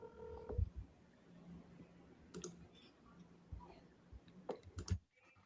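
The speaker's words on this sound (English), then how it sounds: "let's see if I can get somebody on the phone." Faint clicks and short tonal beeps of a telephone being dialed to place a call, scattered irregularly across a quiet, hissy background with no talking.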